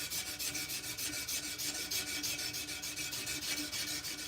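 A knife blade is worked against abrasive grit by hand in quick, even back-and-forth scraping strokes, a rhythmic close rasp repeating about five times a second with no talking.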